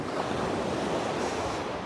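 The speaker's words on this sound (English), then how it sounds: "I'm waiting for the waves to splash over top of the rocks" Waves surge and splash over rocks on a beach at sunrise, a steady, loud wash of surf with some wind rumble on the microphone and no voices.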